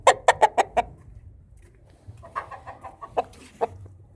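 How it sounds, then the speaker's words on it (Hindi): A Miawali-breed rooster gives a quick burst of five loud clucks, then a softer, looser run of clucking calls with a couple of sharp accents near the end, close by with no talk. "बहुत ही खूबसूरत माशाल्लाह से मुर्गा"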